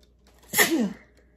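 A single sharp sneeze from a woman indoors, one quick burst that rises and fades within a second against a quiet room.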